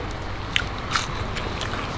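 Biting into crunchy battered fish and chips: two crisp crunches close to the mic, the second slightly softer, over low background noise with no talking.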